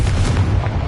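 A Confringo spell explosion in Hogwarts Legacy, a short, loud, booming burst with a heavy low rumble that fills the whole moment.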